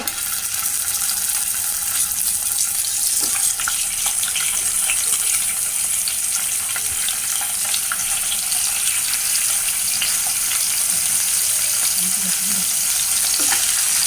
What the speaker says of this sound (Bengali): এখানে অল্প একটু তেল দিয়ে দিচ্ছি আমি মাছগুলো ভাজা করবো